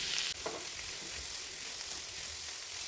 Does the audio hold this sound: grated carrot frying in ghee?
yes